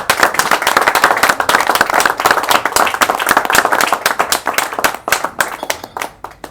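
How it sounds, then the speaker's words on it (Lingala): A congregation clapping in praise of the Lord during a church service, a dense, fast burst of many hands close by that thins into scattered claps. "Nous allons acclamer pour dire merci au Seigneur."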